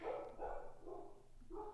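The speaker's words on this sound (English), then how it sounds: "apologize for the dogs" Dogs bark off in the background, several muffled barks in a loose rhythm with short gaps, faint and somewhat distant.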